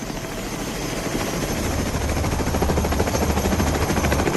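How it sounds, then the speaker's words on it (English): Presidential helicopter convoy with Marine One flying, a loud, steady rotor thump with dense rapid chopping over a deep engine rumble that builds slightly and stays continuous throughout. "The convoy of helicopters reaches lower Manhattan in about 15 minutes."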